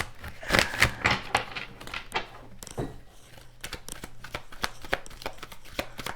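Tarot cards are shuffled by hand in quick, crisp riffles and soft slaps, close up and continuous, with a faint steady hum behind them.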